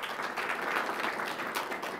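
Audience applause at the 2019 Black Excellence Awards ceremony, a steady wash of many hands clapping together that holds an even level for the whole stretch with no voices over it.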